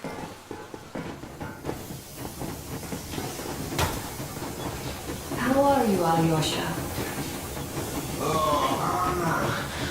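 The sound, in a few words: Yermak steam locomotive train moving in the video game Metro Exodus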